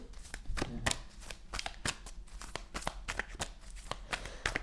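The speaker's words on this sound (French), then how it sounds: "On recouvre les cartes, on fait l'extension sur la vie sentimentale. Je fais la coupe déjà pour commencer." A deck of tarot cards is cut and shuffled close by, giving a rapid series of crisp riffling snaps and soft slaps in irregular bursts, with no talking.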